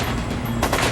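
Gunfire from a Coast Guard crew pours rounds into a burning smuggling boat at sea: a low rumble first, then a sudden burst of sharp, rapid shots cracking close by, with no voices.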